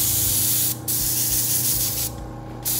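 A spray gun sprays colored cocoa butter in a steady, loud hiss that breaks off briefly twice, with no talking.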